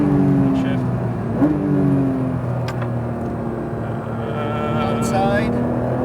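A Porsche 992 GT3 on a track revs hard and loud from inside the car, the engine note climbing and dropping with a quick gear shift near the start and more shifts later, while people talk over it.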